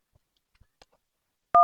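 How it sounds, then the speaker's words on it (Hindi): A mobile phone dials the doctor: a few faint, soft key clicks, then one loud, clear dual-tone beep at the end. "तो डॉक्टर साहब के फोन कर दा। रुका मिलावत है।"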